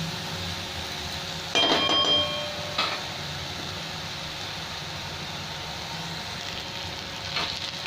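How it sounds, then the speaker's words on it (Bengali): Potato, onion and eggplant fry in a pan for a Bengali-style kolmi shaag dish, giving a steady close sizzle with a short burst of utensil clatter early on and no talking. "এই আলু, পেঁয়াজ, বেগুন একটু 2 মিনিট ভেজে নেবো আরও।"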